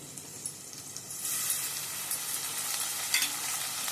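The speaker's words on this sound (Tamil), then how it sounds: "நல்லா தக்காளி சேர்ந்து நல்லா வதங்கட்டும்" Tomatoes sauté in hot oil in a pan for a suthumbu fish curry, giving a soft, steady sizzle with light stirring scrapes and no talking.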